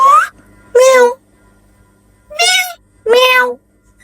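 A talking parrot imitates a cat's meow, giving three clear, loud, close meow calls separated by short silences.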